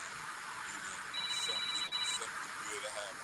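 A phone sounds a short, thin electronic notification tone lasting about a second, fairly faint beneath people talking.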